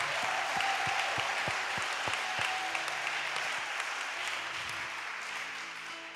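A French-speaking church congregation at a special testimony service claps and cheers steadily, a roomful of applause that slowly fades, with a few sharp claps standing out at the start.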